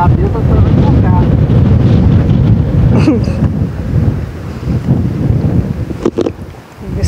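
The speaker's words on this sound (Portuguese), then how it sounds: "Pessoal, tá ventando muito." Strong wind buffets the microphone with loud, continuous rumbling gusts beside water during a windy tilapia fishing outing with a cast net, a few sharper bumps near the end.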